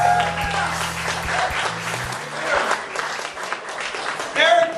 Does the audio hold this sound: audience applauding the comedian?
yes